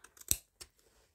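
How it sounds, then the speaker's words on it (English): A few quick, crisp scissor snips close up trimming around the back pocket of old denim jeans, with a sharper cut in the middle, then a brief pause and one more snip. "I'm just going to trim around this back pocket"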